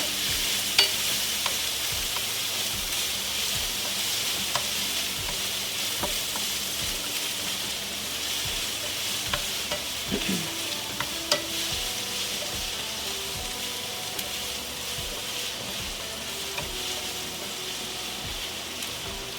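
Onion sizzling steadily in a pan over moderate heat, with occasional scrapes and clicks of a utensil stirring it; close, continuous frying hiss with no one talking.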